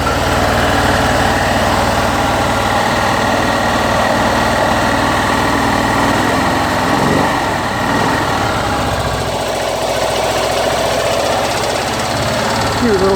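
A 1959 BMW 600 Isetta's small engine idles loud and steady with a rapid, even putter throughout, close to the source and uninterrupted.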